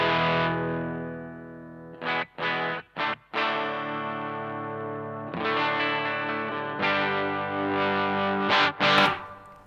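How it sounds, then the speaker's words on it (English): Electric guitar in a classic rock tone, ringing chords that move from a cleaner sound into heavier distortion, broken by a few short choppy stabs, loud and alone with no talking. "to that heavier distorted sound"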